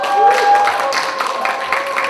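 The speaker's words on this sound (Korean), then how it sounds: "소개할 때마다 응원의 박수 부탁드립니다" Audience applause at a graduate school policy academic forum in Korea as panelists are introduced, dense steady clapping from a crowd lasting about two seconds, fairly loud and close.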